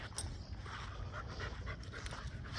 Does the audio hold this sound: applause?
no